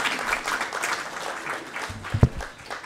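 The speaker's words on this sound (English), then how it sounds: "can we give Ambassador Amy another round of applause?" Applause from an audience at a commemoration of the 31st anniversary of the 1994 genocide, a soft, distant patter of clapping running through the clip with a brief thump near the end.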